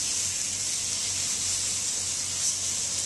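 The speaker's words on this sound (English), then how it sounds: "meat on a grill pan or any pan should sizzle but not pop" Chicken sizzling in a grill pan, a steady bright hiss of frying meat with a faint low hum underneath, even and continuous with no popping.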